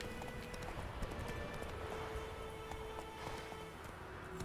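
Geralt's horse Roach gallops in The Witcher 3, steady hoofbeats drumming quickly under a thick bed of ambient game sound and music, at a moderate, fairly even loudness.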